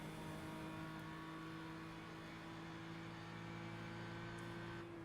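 GT3 race car engine in a racing video game, a steady high droning note at low level that shifts pitch near the end as the car drops down to second gear.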